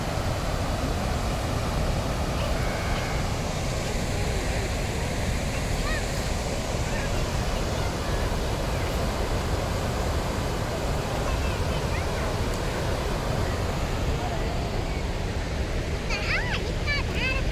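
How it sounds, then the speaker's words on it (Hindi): Powerful rushing water roars steadily and without a break at Sidhnai Headworks, a river headworks, a dense broadband wash close by that fills the whole stretch, with faint wind buffeting. "काफ़ी शोर है पानी का भी"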